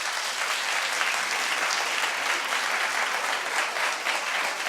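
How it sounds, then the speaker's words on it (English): Studio audience at a daytime talk show bursts into steady, dense applause that holds at an even level throughout, with no voices rising above the clapping. "Clap if he should."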